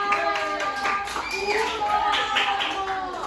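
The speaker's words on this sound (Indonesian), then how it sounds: "Tepuk tangan dong." A group in a classroom claps along with lively voices, brief scattered handclaps mixed under chatter.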